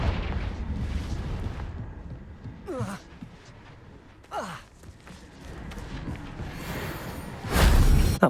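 A Confringo blast spell explodes in the video game Hogwarts Legacy, with rumbling booms and whooshing magical bursts under a dense game soundscape. A deep, loud blast comes near the end.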